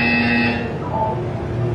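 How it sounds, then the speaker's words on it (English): A Portal 2 game buzzer sounds loud and close, a harsh steady electronic drone that drops to a lower hum partway through. "You will hear a buzzer."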